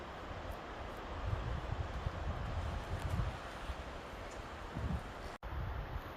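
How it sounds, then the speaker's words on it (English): Steady wind blowing across the microphone at Shoshone Lake in Yellowstone, with low rumbling gusts and a constant airy hiss, no voices, briefly cut by a short dropout near the end. "Some clouds are coming in. So, it's windy."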